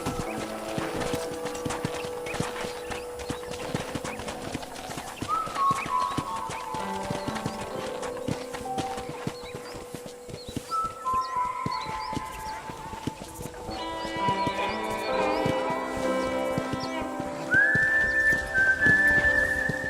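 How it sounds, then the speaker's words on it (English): Horse hoofbeats from the Western video game Red Dead Redemption, a rhythmic clip-clop of riding on a ranch under steady musical tones and whistling, with a voice speaking over parts of it. "let's see if you can still ride a horse"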